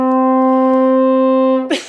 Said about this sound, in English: my first one is the stretched lip breath